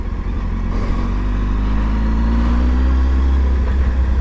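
Honda 919 Hornet motorcycle engine on the road, a loud steady low rumble with a rising tone partway through as it pulls away, heard alone and up close.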